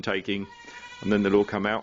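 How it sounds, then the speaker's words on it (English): Baby goat being bottle fed in a garden, bleating in short, wavering cries at the start and again in a longer pair near the end, mixed in with a person talking close by. "The noise you can hear in the background is the baby goat that I'm bottle feeding at the moment"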